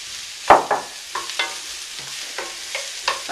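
Chopped garlic and mushrooms cooking in oil in a pan, with a sharp clatter as they go in, then scattered scrapes and stirring taps over a low sizzle.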